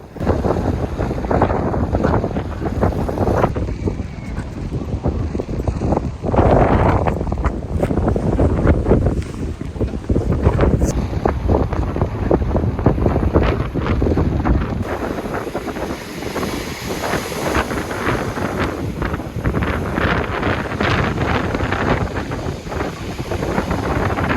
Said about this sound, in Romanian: După ce ne-am plimbat pe vânt așa frumos pe faleză